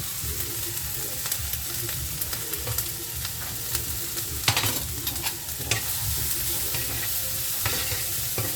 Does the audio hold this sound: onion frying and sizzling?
yes